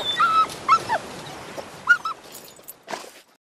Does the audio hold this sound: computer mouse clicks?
no